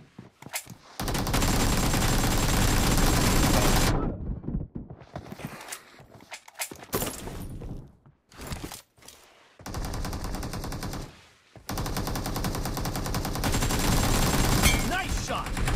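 Video game gunfire in a team shooter match, with sustained bursts of automatic weapon fire that break off into scattered single shots and short gaps before heavy firing resumes, loud and continuous, alongside faint game sounds.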